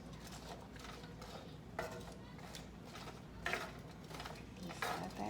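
Chopped onion and celery sauté in butter in a pan while a spoon stirs, giving soft repeated scraping and light clinks against the pan, faint and close.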